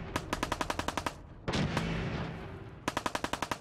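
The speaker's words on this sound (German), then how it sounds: "Den ballern wir jetzt mal so richtig einer von hinten." Rapid automatic gunfire in the video game Fallout 4, two bursts of evenly spaced loud shots separated by a louder blast and rumbling decay, close and without talk.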